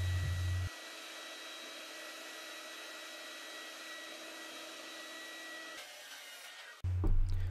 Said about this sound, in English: I'm cutting them on the miter saw